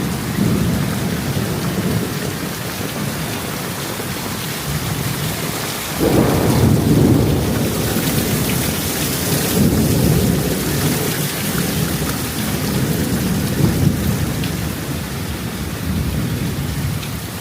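Heavy monsoon downpour in Bangladesh with thunder, a dense steady roar of rain pounding surfaces close by and deep thunder rumbles swelling from about six seconds on, with no voices.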